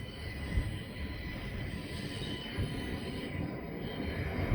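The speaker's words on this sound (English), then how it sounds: "The trains include this NGR unit," A Queensland Rail NGR train passes through Petrie station with a steady, moderately loud rumble of wheels on rails and a faint high squeal, continuous throughout with no voices.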